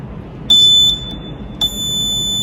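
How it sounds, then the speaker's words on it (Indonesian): A piezo buzzer on an FPGA and Arduino smart locker sounds after a wrong password: two shrill electronic beeps, a short one and then a longer held tone, over a quiet room. "Lampu merah hidup, kemudian buzzer menyala."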